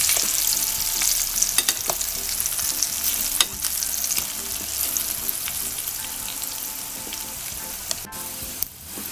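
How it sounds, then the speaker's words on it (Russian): Zucchini slices fry in a pan with a steady close sizzle and crackle, a few sharper pops and spatters breaking through, no voices over it. "Но это надо будет обжарить нам с двух сторон, пока они не станут мягкими."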